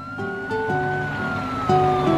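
Stepped, alternating siren tones wail over a low engine rumble, with a higher steady siren line running above, loud and close.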